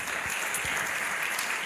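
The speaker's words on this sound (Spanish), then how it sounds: "Dale un aplauso al Señor." Church congregation applauding during a Spanish-language sermon, a brief, steady patter of clapping that sounds somewhat distant.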